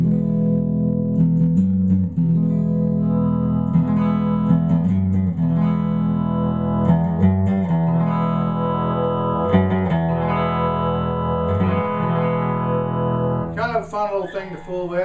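A 1960s Harmony H49 Stratotone Jupiter electric guitar played with both pickups blended, sustained chords and picked notes ringing steadily for the whole stretch, ending with a quick flurry of higher notes.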